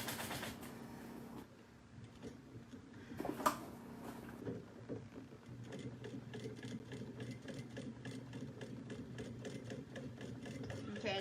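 A sewing machine back stitches the seam of a bucket bag with a drawstring, its needle running in a fast steady mechanical patter after a brief pause and a few handling clicks, close and fairly loud.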